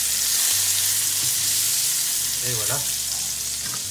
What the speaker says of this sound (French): nos pièces sont sur le point d'être rôties sur toutes les faces